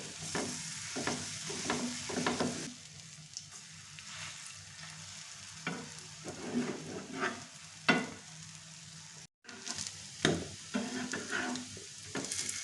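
Flatbread sizzles steadily in a pan as a healthy breakfast cooks, with soft scrapes and pressing sounds from a utensil over the continuous frying hiss, close and moderately quiet.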